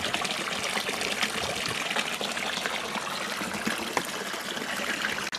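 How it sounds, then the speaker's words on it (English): Water runs steadily through a small gold-prospecting cleanup sluice outdoors, a continuous broad splashing and trickling rush at moderate level throughout, with no talk. "Okay, got the cleanup sluice running, ready to run the cons from the test hole."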